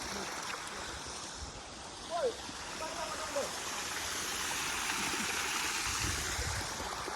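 Water flows steadily at Kunjan Odai, a stream whose broad, even rush fills the whole stretch, with a couple of brief faint calls rising above it.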